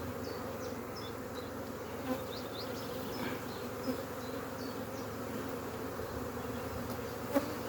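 Honeybees buzz around a honey-filled hive frame during a hive split, a dense continuous hum with individual bees zipping past up close and occasional small knocks.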